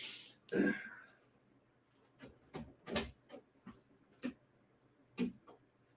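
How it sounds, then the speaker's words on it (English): A dog nearby shuffles and snorts indoors, giving a few sniffs and breathy whimpers scattered over several seconds against a quiet room. "I got to get rid of this freaking dog"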